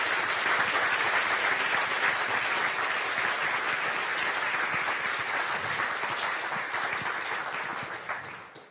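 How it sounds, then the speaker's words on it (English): Conference audience applauding at the close of an event, steady dense clapping from a roomful of people that holds strong for several seconds and then tapers off at the end. "If I could have a round of applause for all of our speakers from today."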